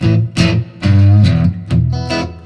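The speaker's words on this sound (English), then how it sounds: "that's the sound of a good old-fashioned Fender amp is what that is" An electric guitar through a Fender amp with a little gain plays a few loud, punchy chords with a warm, slightly driven tone, each strum ringing briefly before the next.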